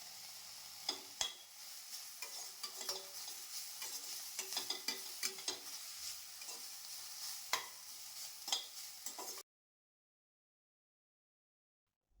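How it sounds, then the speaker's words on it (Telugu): Green chilies, coriander seeds and cumin fry in a pan for coriander chutney. There is a soft, close, steady sizzle marked by sharp clicks and scrapes of stirring, and then the sound stops abruptly into silence. "పచ్చిమిర్చి ఇలా వేగిన తర్వాత తీసి పక్కన ఉంచుకుందామండి."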